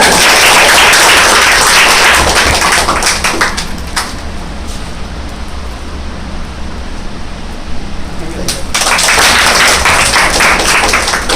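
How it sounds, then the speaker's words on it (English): An audience at a monthly rewards and recognition ceremony applauds an award recipient, a loud, dense burst of clapping that eases in the middle and then swells again. "So a big round of applause for him as well."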